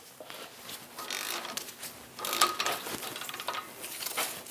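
A ratchet socket wrench with a 21mm socket loosens the caliper bracket bolts on a 2003-2025 Chevrolet Express 2500, giving faint repeated ratcheting clicks in two bursts close to the microphone.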